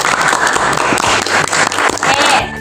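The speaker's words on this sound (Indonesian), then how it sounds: "ayo coba beri dulu tepuk tangan untuk kelompok 3" A class of students applauds a student group, dense clapping filling the short stretch at close range before stopping near the end.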